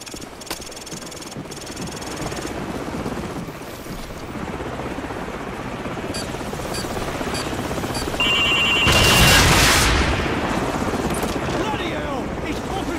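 A loud helicopter in Call of Duty 4: Modern Warfare drones steadily with thumping rotor noise, joined by a sharp ringing tone and rising roar near the end.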